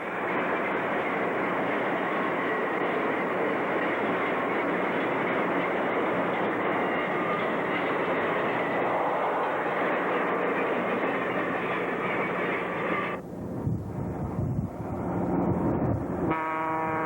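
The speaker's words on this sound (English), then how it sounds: "we watch as southbound train number 308 goes by with engines" Ontario Northland southbound train 308, hauled by engines 1800 and 1801, rolls past in light snowfall with a steady loud roar and wheel clatter; toward the end the sound changes and a horn-like tone appears.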